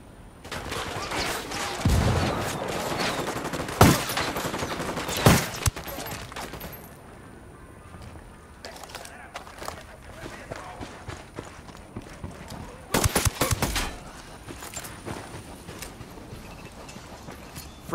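Gunfire and a grenade blast in the tactical shooter Wildlands: a few sharp bursts and heavy booms at intervals, including a cluster near the end, over a rumbling background with squad voices talking.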